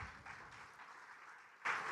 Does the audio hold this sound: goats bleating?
no